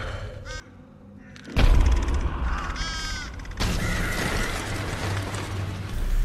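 Crows caw over a nun's corpse they are feeding on, several harsh calls spread across the scene, set against a low rumbling ambience that drops away briefly before swelling loud again.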